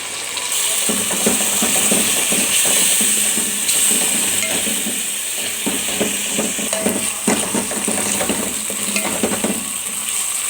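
Beef tripe in a tagine sauce sizzles steadily in a pot while a spoon stirs and scrapes it, with loud, continuous frying and frequent close-up clicks and scrapes throughout and no talk.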